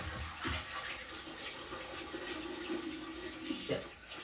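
Water poured into a leaking toilet tank, a continuous splashing, trickling flow that runs for several seconds at moderate loudness, with a faint voice in the background.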